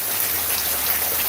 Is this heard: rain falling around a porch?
yes